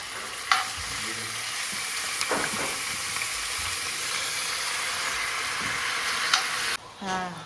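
Chicken for pepper chicken sizzles steadily in a hot pan, a constant frying hiss broken by a few clinks and scrapes of stirring, with no talking.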